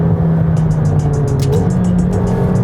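McLaren 720S engine drones loud and steady, its low hum broken by a rapid series of sharp clicks and brief pulses as quick gear shifts come through, with no talking.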